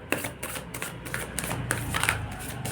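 Tarot cards handled during a reading, with repeated soft papery shuffling and a card drawn from the deck, close and fairly quiet, with no talking.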